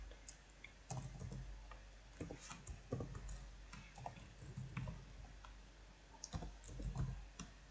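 Soft computer mouse clicks tick irregularly at close range during a web login, several sharp taps spread over a quiet background with faint low hum.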